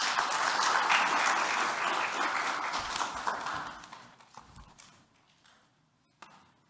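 Sustained audience applause at a university colloquium on language policy in higher education, loud and dense at first, then thinning and fading out over several seconds, ending with a few scattered claps.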